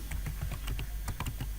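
Computer keyboard typing in short irregular bursts of key clicks, fairly close and steady, entering a search in the stock images panel of a presentation app, with no talking.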